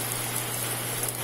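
Heavy, nonstop rain pours down in a dense, even roar of falling water, steady and close throughout the short stretch.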